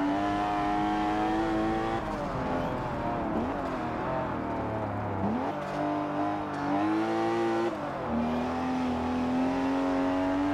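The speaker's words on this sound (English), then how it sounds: "I like the turbos though, the turbo sound is nice." Turbocharged race car engine in a video game, a steady high-revving drone with rising and falling pitch through gear shifts, continuous and loud with no talk over it.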